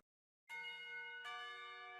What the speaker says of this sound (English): Clock tower bells ring